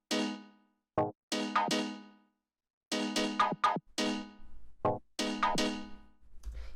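Rhythmic minor-chord synth stabs from a 124 BPM Toolroom-style house track: short, bright, loud chord hits played alone in a syncopated pattern with gaps between groups, and a faint low pulse entering near the end.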